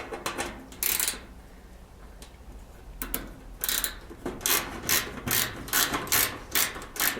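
Screws being backed out of the rear panel of an electric dryer with a 1/4 inch nut driver, producing close, quiet clicking and ratcheting mechanical taps in irregular bursts, with no talk.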